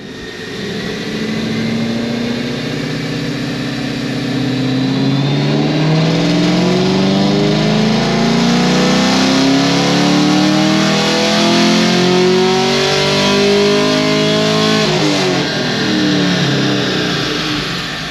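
A bolt-on modified car engine runs a dyno pull, its revs climbing steadily from a low drone to a loud, sustained high-rpm roar before dropping sharply near the end, close and without speech.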